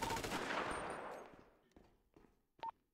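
Rapid automatic gunfire in Grand Theft Auto rattles out loud and dense at first, then thins to a few scattered, sharper shots with gaps between them.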